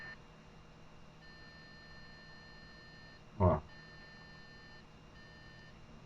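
A multimeter's continuity beep sounds once as its two probes touch together, a short electronic tone over a faint hum on a workbench with electronic circuit boards, quiet overall.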